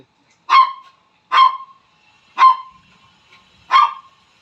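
Four short, high puppy yips spaced about a second apart, sharp and close in an otherwise quiet space.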